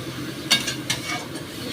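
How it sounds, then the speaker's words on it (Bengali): Fenugreek greens curry being stirred in a pan, a spatula scraping with two distinct clattering strokes over a soft, steady sizzle, close and without talk. "একটু নেড়ে নিয়ে তারপরে একটু জল দেবো"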